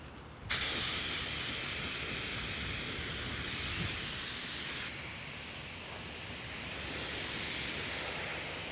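A paint spray gun hisses in a steady, close, continuous rush as it coats a vehicle sway bar on a workshop table. The spray starts abruptly just after the beginning and runs without a break to the end, with no talking.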